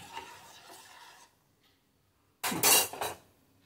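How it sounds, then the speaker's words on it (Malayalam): A large spoon scrapes and clinks against a pot while falooda milk mixture is stirred, first a soft scraping, then after a brief silence a louder burst of metallic clatter near at hand. "ഇന്ന് നമുക്ക് ഇതിലെ കൊരി ഒഴിച്ച് വെച്ചങ്ങ് ഇളക്കാം കേട്ടോ"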